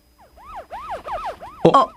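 A police car siren wails in a fast, rising-and-falling yelp pattern, loud and close, with a burst of harsher noise near the end.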